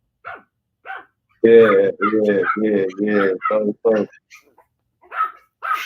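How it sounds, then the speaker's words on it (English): Puppies bark and yip sharply in quick repeated bursts while fighting, near and loud, with a brief voice in between. "hey, these puppies going crazy. They fighting."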